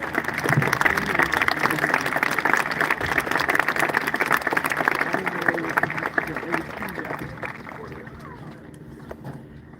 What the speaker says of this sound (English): let's give one more big round of applause for Haley and Landon